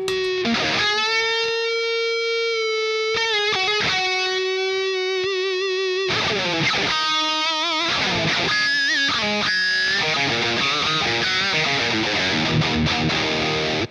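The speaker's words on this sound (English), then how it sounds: "the BB Preamp just makes it sound really creamy" Electric guitar through a warm Xotic BB Preamp overdrive pedal, chords and sustained notes ringing out smooth and thick, with a steady hiss under the playing.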